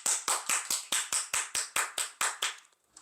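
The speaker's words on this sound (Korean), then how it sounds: "제가 박수를 칩니다." About a dozen sharp hand claps from one person at a steady, even rhythm, close and fairly loud, stopping just before the end.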